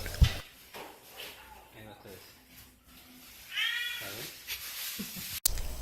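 A house cat meows close by, a short drawn-out meow rising out of room noise, with soft thumps and handling sounds around it and a sharp click near the end.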